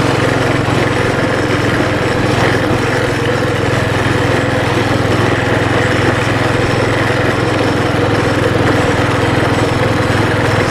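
Freshly rebuilt Baja Warrior mini bike engine with a torque converter, held just above idle during a ride: a steady, loud, continuous small-engine drone with no pauses.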